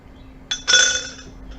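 A coffee cocktail is poured into a glass full of ice, giving a brief clink of ice and a short bright splashing pour, close and alone.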